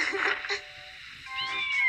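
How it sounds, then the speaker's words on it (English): A kitten meows several times, with thin, high cries that come in short bursts, close and fairly clear, and a brief quiet gap in the middle. "She's Beth's kitten"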